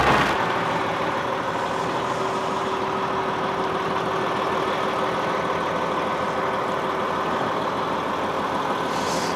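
A diesel truck's engine idles with a loud, steady, rumbling drone and constant mechanical clatter, heard close up and unchanging throughout.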